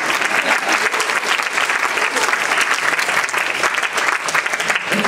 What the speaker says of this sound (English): That's clapping time.